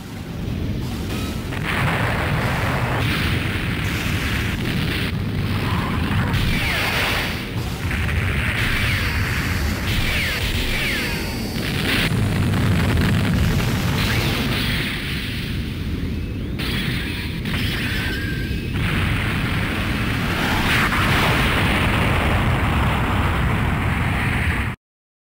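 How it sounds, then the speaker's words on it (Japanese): Booming blasts and rumbling detonations rolling across the asteroid fortress Axis in the PS1 game Gundam Char's Counterattack, a long, dense, loud barrage with repeated bursts and no letup. "分断させる爆発が強すぎた"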